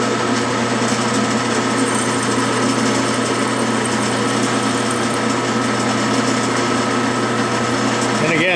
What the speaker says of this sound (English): I'm running the lathe much slower than what is necessary